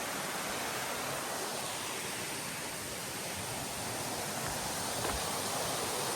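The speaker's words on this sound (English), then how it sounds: "Let's go to the waterfall anyway." Steady roaring rush of a waterfall near a campsite, a constant broadband wash of falling water that stays loud and even throughout with no voices.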